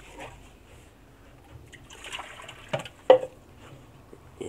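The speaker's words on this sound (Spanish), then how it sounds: "Tiro el agua sucia." Dirty dishwater poured out of a small tub beside an outdoor ranch sink, heard as a soft trickle that builds into two brief, louder splashes near the end.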